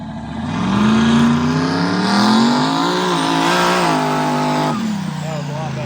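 Turbocharged mega truck engine revs hard as it launches in second gear, a loud sustained roar rising and falling in pitch over several seconds, with voices talking faintly beneath.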